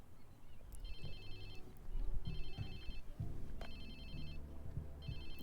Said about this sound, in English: Ubisoft presents a ringing phone.